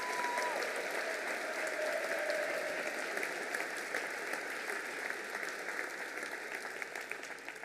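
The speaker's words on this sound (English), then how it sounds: "A big round of applause for yourselves" A graduation audience at an Edinburgh College ceremony applauds in a steady, dense wash of clapping that keeps an even level throughout, with no voices rising above it.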